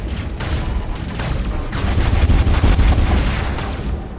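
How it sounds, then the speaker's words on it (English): Cannon fire from combat robots in War Robots, loud rapid bursts of booming shots layered over a dense, continuous battle rumble that swells in the middle and stays heavy throughout. "Use our cannon"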